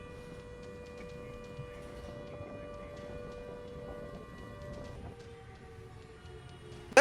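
A civil defense air raid siren sounds during a mock drill in Mumbai, holding steady sustained tones at moderate distance for several seconds over a low rumbling background, with a brief loud knock at the very end.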